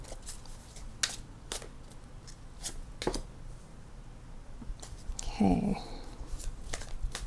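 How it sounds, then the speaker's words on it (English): Tarot cards are shuffled in the hands, giving a series of quiet, crisp riffles and flicks spaced irregularly, close and faint, with a brief spoken word near the end. "Let's shuffle and get two more."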